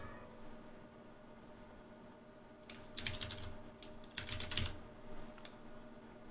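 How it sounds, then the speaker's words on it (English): Keys tapped on a computer keyboard to enter a name during an Ubuntu 20.04 installation, two short quiet bursts of clicks over a steady low hum, with no one speaking. "Type in your name."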